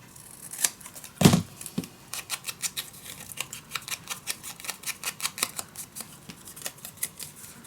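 Scissors snip small pieces of paper for a mini album, one sharp heavier cut followed by a rapid, rhythmic run of many short crisp snips, close and clear with no talking.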